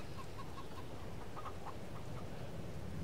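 Chickens cluck in Farming Simulator 22, a few short clucks standing out faintly over a steady low hum of ambient farm noise, with no talking.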